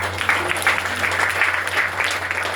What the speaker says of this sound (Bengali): তো মোদি কেয়ারের জন্য জোরদার একটা হাততালি